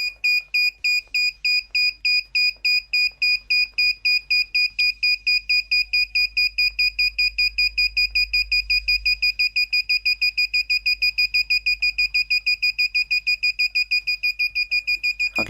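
A 555 astable timer circuit drives a shrill electronic alarm beep that pulses in a fast, steady rhythm the whole time, its pulse rate shifting slightly partway through, loud and close with no talking.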